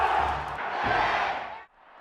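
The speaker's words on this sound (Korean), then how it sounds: "양팀 관중들의 응원 대결도 팽팽했습니다" Packed stands at a Korean professional baseball game with Lotte fans, both teams' supporters chanting and cheering in a loud, massed roar that swells, then drops off sharply near the end.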